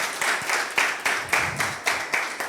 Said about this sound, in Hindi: आप तालियां बजा सकते हैं खुदा के जलाल के लिए